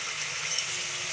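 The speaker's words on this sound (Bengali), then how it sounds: "আর এদিকে মশলাটা ভাজা হয়ে আসছে।" Spice masala frying in a pan for homemade chicken chaap, a steady close hiss of sizzling oil with faint stirring scrapes and a couple of small clinks throughout.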